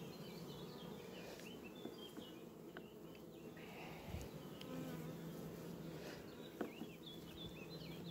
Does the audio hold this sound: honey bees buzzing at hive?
yes